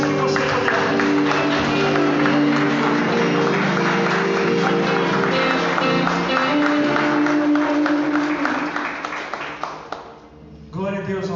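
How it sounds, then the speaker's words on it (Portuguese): A church congregation during a Sunday worship service claps together in a loud, continuous roar over music, sustained for most of the stretch before fading out near the end, where a voice briefly comes in. "aplauda Jesus o mais forte que você puder."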